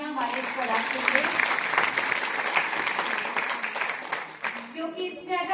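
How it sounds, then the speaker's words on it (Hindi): Loud, sustained applause from a crowd cheering a product at a live sales presentation, dense clapping filling the whole stretch without pause. "एक बार जोरदार तालियां हमारे इस प्रोडक्ट के लिए"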